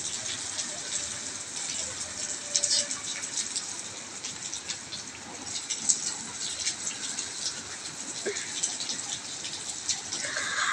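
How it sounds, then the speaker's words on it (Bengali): Rainwater streams off a rooftop during a storm, a steady rushing splash layered over the constant hiss of heavy rain, with a few brief knocks and drips standing out near the microphone. "ঝড়ে বৃষ্টির পানি পড়ছে ছাদ দিয়ে"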